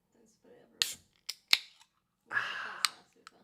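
A can of rum being opened: a sharp metallic click and hiss at close range, followed by a longer fizzing burst, with quiet talk around it.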